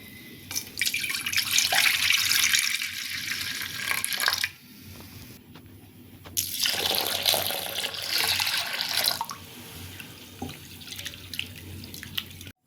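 Water runs and splashes as moong lentils are rinsed in a basin, in two bursts with a quieter pause between them, close by and with no voices.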